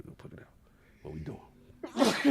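A single sharp sneeze bursts out near the end, loud and close, after a stretch of casual conversation between people.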